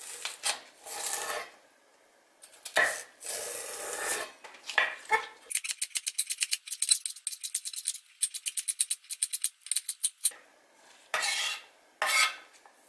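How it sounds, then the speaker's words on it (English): Knife chopping split, trimmed celery stalks into small squares on a cutting board for Rhode Island clam chowder: a rapid, steady run of crisp chops, preceded and followed by slower scraping and handling sounds, with no talking. "I'm just going to split these down the middle, trim the ends a little bit, and chop them into small squares."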